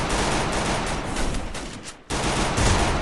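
Sustained video game gunfire plays loud and close as a dense, continuous fusillade of rapid shots, broken only by a brief cut near the end.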